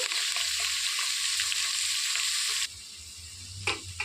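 Green chilies sizzle and fry steadily in hot oil in a pan for chicken biryani, a loud continuous crackle that drops abruptly partway through, then flares again with a stir near the end.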